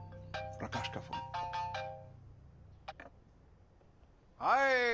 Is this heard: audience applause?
no